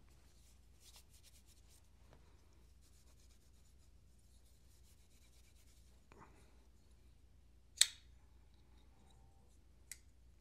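A Tactile Knife Co Rockwall knife with freshly lubricated skiffs is worked open and shut, giving soft faint rubbing and two sharp close clicks set apart by a couple of seconds.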